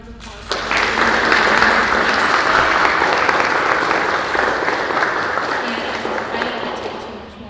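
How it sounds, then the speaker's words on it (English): Audience applause for interfaith panelists at a dine-and-dialogue panel event, bursting in after a brief pause and holding as a steady, loud wash of many clapping hands that tapers slightly toward the end. "let's give all of them a really big round of applause"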